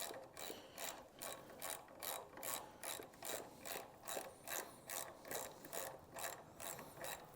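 Close, quiet ratchet clicking in rhythmic pulsing strokes while a rear brake caliper is tightened down, a steady series of short click bursts with no talk.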